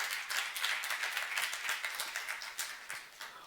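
A church congregation claps together after a sermon at a youth service, a faint, distant patter of many hands that sounds soft and diffuse and carries on steadily.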